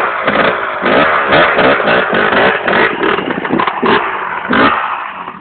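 A 1998 KTM EXC 300 two-stroke motorcycle passes at full throttle, its loud, raspy engine roaring up close with fluctuating revs across the pass.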